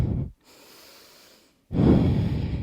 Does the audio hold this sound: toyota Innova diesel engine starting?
no